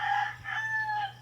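A rooster crows on a farm where chickens are kept, a single drawn-out call with a second rising phrase, fairly clear over a steady low background hum.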